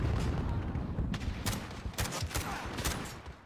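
Distant gunfire in a Call of Duty: Modern Warfare match, a faint scatter of sharp shots and short bursts cracking irregularly over low background rumble, with no talking.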